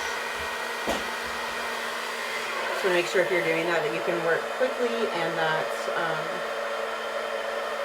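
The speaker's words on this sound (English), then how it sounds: "Blow dryer down, brush in, nice and smooth." A handheld blow dryer runs steadily while drying hair onto a round brush, a constant whooshing hum with someone talking over it in the middle.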